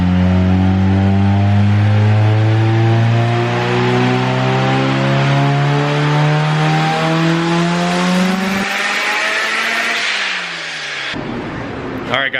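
A turbocharged Honda Civic D16Y8 engine makes a dyno pull, loud and close, its tone sweeping steadily upward as it revs, then cutting off abruptly into a brief turbo whoosh and quiet.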